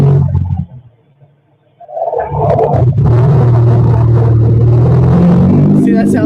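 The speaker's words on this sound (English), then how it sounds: "You're going to hear like a bass of an engine in a second" A police car's engine comes alive after a brief quiet gap, then a deep bass rumble builds and runs loud and steady as the car pulls in.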